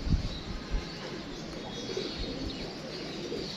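Pigeons coo softly over a steady background hum, with a few low murmuring calls and faint chirps nearby.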